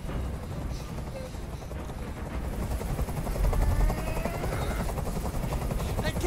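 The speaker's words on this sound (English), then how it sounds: "I can't stand that noise anymore. Tell that helicopter to get out of here." Dense rotor chopping of a video game helicopter, from Detroit: Become Human, fills the clip, a loud continuous thrumming with scattered crackles and bursts mixed in.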